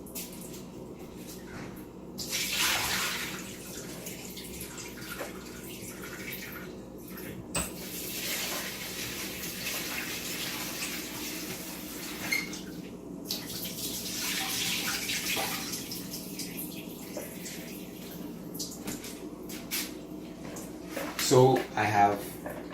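Tap water runs while soaked sea moss is rinsed at a sink, bursts of splashing and pouring water come and go, with a person speaking at times and a brief clatter near the end.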